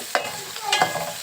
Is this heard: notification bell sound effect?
no